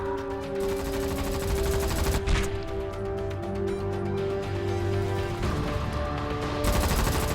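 A turret in the video game The Red Solstice fires a steady stream of rapid shots at swarming creatures. The dense, loud gunfire goes on without a break, with brief sharper bursts layered on top, and no one talks.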